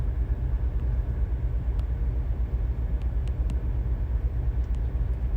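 White trucks driving, a steady low rumble of engines and road noise heard from inside or nearby, continuous and fairly loud with a few faint clicks.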